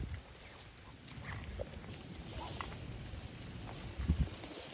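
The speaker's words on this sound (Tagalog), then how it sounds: "Yan yung aso ko. Kita nyo guys yung aso ko." A dog out on a walk through a rainy midday street in London, with a steady, close patter of rain and footsteps that grow a little louder toward the end. No one speaks.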